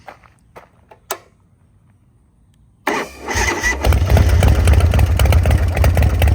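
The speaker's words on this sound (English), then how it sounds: "Let's hear this thing start up." After a few faint clicks and taps, a Harley-Davidson FXR motorcycle engine cranks and fires up, settling into a loud, deep, rumbling idle nearby.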